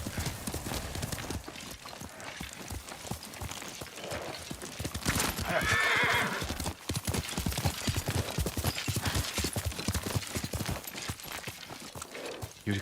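Horse hooves clip-clopping steadily through a Ghost of Tsushima game scene, close and rhythmic throughout, with a brief whinny near the middle over faint background.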